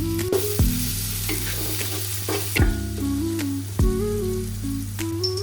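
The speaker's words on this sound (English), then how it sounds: "add freshly crushed ginger garlic paste, and chopped capsicum, giving it a quick stir." Crushed ginger garlic paste and chopped capsicum stir-frying in hot oil, a loud close sizzle crackling like rain with three sharp metallic spatula scrapes against the pan at regular intervals.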